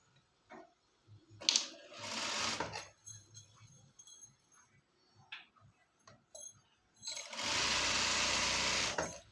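A sewing machine stitching a fold in smooth silk fabric while making pants: short bursts of fast close whirring stitches, with a long run at the end and pauses between for handling.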